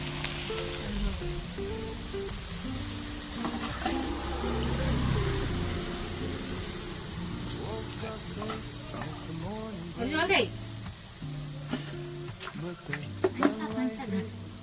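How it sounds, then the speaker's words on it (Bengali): Mustard paste mixed with water poured into a sizzling pan of potatoes for a village-style chorchori, a steady frying hiss under scraping stirs and clinks, with a louder burst of sizzle and clatter toward the end. "এবারে এতে যে সর্ষেটা বেটে রেখেছিলাম তার সঙ্গে মানে জল মিশিয়ে এটা এতে দেবো।"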